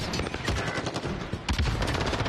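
Dense automatic gunfire from a competitive shooter game, with rapid, continuous shots filling the whole stretch and slightly heavier bursts toward the end, and no voices.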